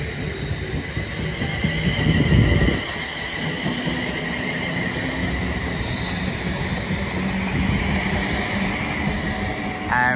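A Class 350 electric multiple-unit train rolls past at Watford Junction on the West Coast Main Line, a close, continuous rumble of wheels on rail with brief squeals and clatter, and a two-tone horn-like screech near the start.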